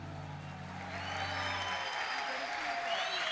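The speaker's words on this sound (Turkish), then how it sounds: "Alkışlarınız Sevcan için" Studio audience applause for a singer on a televised pop talent competition, a broad crowd wash that rises and holds steady after a voice's closing line fades out underneath.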